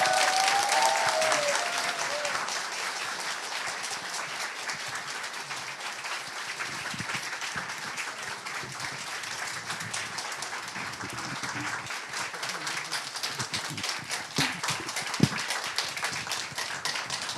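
An audience at a church revival service applauds continuously for a long stretch, many hands clapping at a steady level, with a brief voice at the very start.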